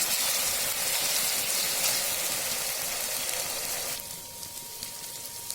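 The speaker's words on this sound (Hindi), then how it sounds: "अब इसमें हम डालते हैं लहसुन अदरक का पेस्ट। और इसको इसमें अच्छे से भूनेंगे।" Garlic ginger paste frying with browned onions in a pan, a loud steady sizzle and hiss that drops somewhat near the end, with faint stirring clicks.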